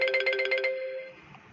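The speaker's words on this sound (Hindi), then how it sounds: "अरे बाप रे, फोन आ रहा है" A mobile phone ringtone plays a quick run of bright electronic beeps for about half a second, then fades out with a lingering tone in a quiet room.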